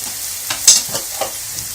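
Peppers frying in a pan for an oven-baked potato dish with kasar cheese, a soft steady sizzle with a few brief stirring scrapes, close and moderately quiet, no talking.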